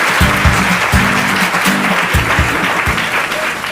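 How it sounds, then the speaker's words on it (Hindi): Studio audience applauding a contestant on a televised quiz show, a steady dense wash of clapping with a rhythmic musical beat thumping underneath. "जोरदार तालियां हो जाए प्रवीण जी के लिए"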